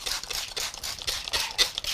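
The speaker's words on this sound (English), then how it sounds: "So I've already sprayed all of these paints, but I'm going to spray them again." A spray bottle mists water over a palette of gouache paints in a series of quick, close hissing spritzes with short gaps between them.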